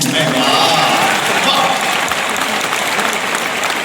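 An audience at a poetry recital in Raipur bursts into sustained, loud applause that stays dense and even for the whole stretch, with a voice faintly audible beneath it.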